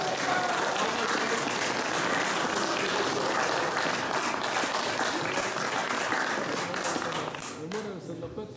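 A crowd at a hunting club's initiation ceremony applauds loudly and continuously while an announcer's voice carries over the clapping, which tapers off toward the end.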